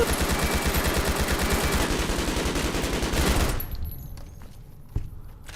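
Sustained rapid automatic gunfire in a fight against a sentry bot in Fallout New Vegas, loud and continuous for several seconds before cutting off into quieter clatter and one last sharp report.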